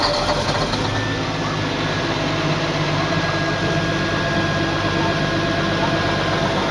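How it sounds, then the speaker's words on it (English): A Cat D10R dozer engine runs steadily after startup, a loud, close, continuous diesel drone with a constant low rumble and faint whine, no talking. "whenever you're starting a dozer, you just want to make sure that you're holding this down somewhat."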